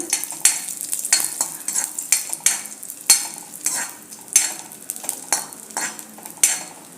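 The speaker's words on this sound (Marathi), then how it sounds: "मनुकेही याच्यात थोडे परतून घेऊया" Raisins sautéed in ghee for rice kheer, a spoon scraping and stirring in a pan in repeated close strokes over a light sizzle, with no talk.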